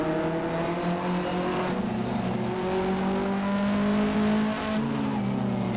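A 1985–1992 Australian Group A touring car driven in Assetto Corsa, engine revving and climbing through gears in smooth rising tones, with a shift and a brief squeal of tyres near the end.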